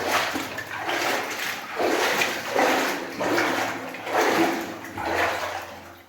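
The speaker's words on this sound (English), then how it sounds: "We can't go too fast or it's just too much splashing noise." Water splashes as someone moves through a stream or flooded passage in New Zealand's North Island goldfields, in rhythmic surging swishes about once a second, close and steady, with no talking.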